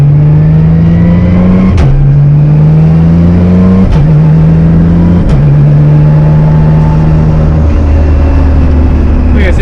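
Nissan Skyline R33 GTR accelerating hard on a street, a loud close engine drone climbing in pitch through each gear, broken by three sharp clean shifts and a fourth change near the end.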